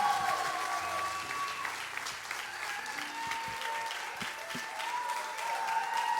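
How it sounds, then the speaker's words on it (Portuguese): Church congregation clapping steadily throughout, a dense continuous applause heard from within the room at moderate level, with a faint voice underneath. "Eu vou pedir que vocês deem uma grande salva de palmas"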